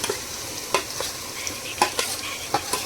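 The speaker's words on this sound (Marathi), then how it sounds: "तर आता आपण त्यामध्ये कोळंबी सोडूया" Marinated prawns for biryani drop into a hot pan, giving a steady close sizzle broken by a few sharp stirring clatters and spatters spread over the moment.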